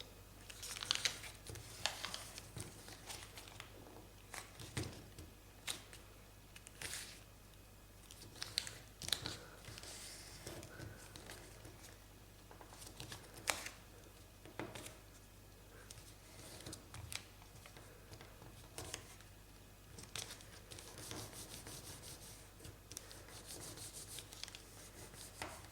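Sheets of origami paper being creased and folded for a clover tessellation give soft, close rubbing and crinkling sounds with scattered sharper creasing snaps. No voices are heard over the steady paper handling.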